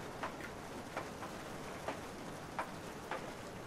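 Steady rain pours in the horror game Lust from Beyond, a constant hiss with faint individual drips and ticks scattered on top, heard alone without voices.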